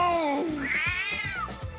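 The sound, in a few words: cat Luffy meowing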